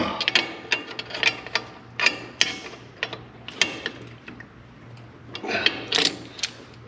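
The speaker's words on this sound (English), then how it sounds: "Tighten down that lock nut." A ratchet tightens a lock nut on a 1954 Willys Jeep, making quick bursts of clicking pawl strokes in uneven groups, close and clear over a faint low hum.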